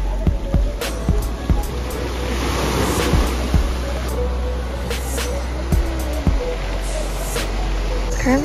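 Surf washing onto Black Sand Beach in Kona, Hawaii, where the sand is coarse and rocky; a steady wash of waves rolls throughout with some wind buffeting the microphone and a few brief thumps.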